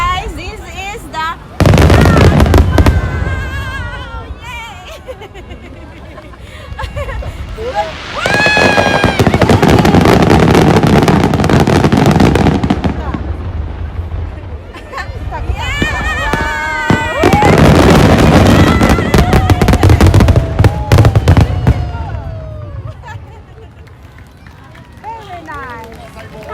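Large summer fireworks display at the Kameoka festival in Japan, with repeated sustained barrages of loud booming and crackling bursts separated by brief lulls, a crowd talking and exclaiming close by throughout.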